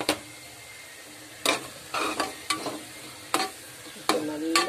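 Prawn biryani masala of tomato, onion, ginger-garlic paste, chilli powder, turmeric and coriander being stirred in a pan, repeated scraping strokes over a frying sizzle, close and alone.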